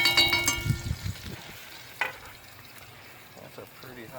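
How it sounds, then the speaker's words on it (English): Butter melts in a hot skillet on a Big Green Egg grill, giving a soft sizzle and crackle with a few clinks of a utensil, moderately close, and a voice talking briefly at the start. "I'm going to melt that butter."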